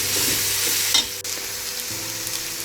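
Onions sizzle and fry in hot oil for chicken biryani, a dense, steady hiss with a brief scraping stir partway through, close up and with no voices.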